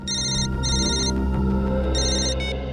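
A telephone rings in a crime-drama police setting, giving loud, close electronic ringtone bursts in a repeating pattern of two rings, a pause, then another, with no talk over it.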